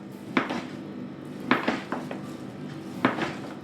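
A knife slices through smoked chicken fillet on a board, giving three sharp, close taps, each followed by a short scraping cut, spaced about a second and a half apart.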